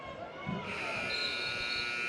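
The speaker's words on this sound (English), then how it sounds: "The buzzer goes off before they can get a shot." A sustained electronic buzzer tone holds steady over a noisy gym crowd and a commentator's voice at a boys' high school basketball championship game, lasting about a second and a half.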